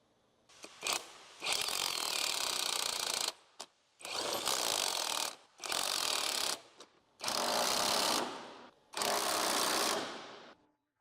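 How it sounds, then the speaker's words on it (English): A pneumatic impact wrench with a 17mm socket and extension runs down the transmission mount bolts on a 2006-2011 Honda Civic, firing five loud, close bursts of hammering rattle, each lasting about a second or more, with short pauses between them. "Use a 17mm socket with extension on the impact to tighten the transmission mounting bolts."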